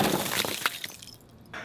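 Car window glass smashed by an emergency escape tool: a sharp single break with crackling shatter that quickly tails off, close and loud.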